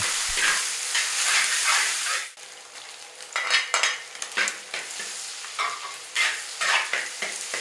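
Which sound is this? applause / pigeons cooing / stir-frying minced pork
stir-frying minced pork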